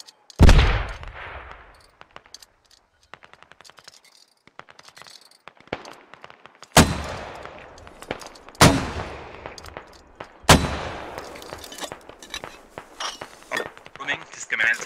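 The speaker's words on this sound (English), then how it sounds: "Juliet 411, I'm dropping mortars." Mortar rounds fired and landing in the military shooter game Squad: several heavy booming blasts spaced seconds apart, each with a long rumbling tail, amid sparse clicks and quiet radio chatter.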